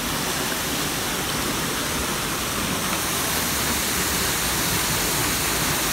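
Clear water flowing steadily in Nepal, a broad, continuous rushing wash like a stream or small waterfall, loud and close throughout with no voices.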